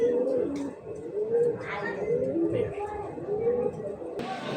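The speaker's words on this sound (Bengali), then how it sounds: "আর এক পেয়ার বোম্বাই কবুতর ভাই।" Bombay pigeons cooing in a pigeon-keeping setting, repeated soft low throaty coos close by, overlapping in a steady rhythm, with faint background chatter.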